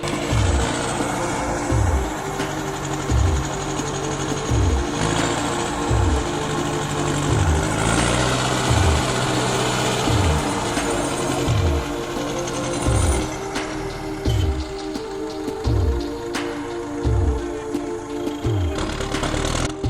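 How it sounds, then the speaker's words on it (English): An LKT-81 skidder loaded with logs travels a narrow, rugged forest road, its diesel engine chugging steadily with rhythmic low pulses and clanking, loud and close with no voices. "Loaded with logs, the machine begins its journey down a narrow, rugged forest road."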